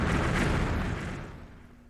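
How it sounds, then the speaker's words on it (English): Explosions in the Klonoa Wii remake video game: a single heavy booming blast that hits loud at once and then rumbles and fades away over about two seconds, with no talk over it. "those explosions were loud"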